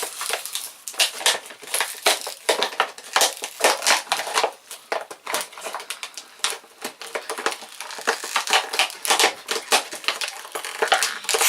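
Packaging of a Zelda Link collectible being ripped open by hand: a close, continuous run of crinkly tearing and crackling bursts, irregular and fairly loud throughout, with no talking.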